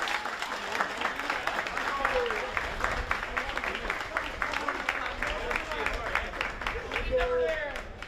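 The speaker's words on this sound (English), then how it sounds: "So a big round of applause for coaches and managers of both teams." A crowd claps in sustained, dense applause for the coaches and managers after a Gaelic football final, filling the space, with a few voices calling out over it near the end.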